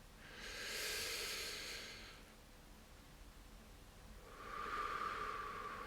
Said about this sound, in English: You can start with just a really deep breath all the way in.